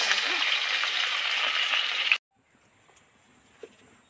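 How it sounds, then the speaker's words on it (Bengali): Small koi fish frying in hot oil in a pan, a steady loud sizzle that cuts off abruptly midway, followed by near quiet with a faint high tone and small clicks. "মাছগুলো তো সব ভেজে তুলে নিলাম।"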